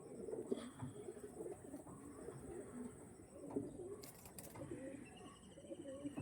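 Breeder pigeons kept for sale coo in low, rolling phrases that overlap continuously, quiet and somewhat distant, with a couple of brief higher chirps and no speech.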